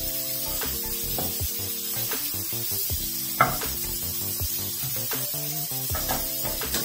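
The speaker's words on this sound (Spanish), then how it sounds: "Y esto lo vamos a freír junto con el jitomate." Pork pieces and tomato frying in a pan for red mole, a steady loud sizzle with occasional stirring clinks and scrapes, no talking.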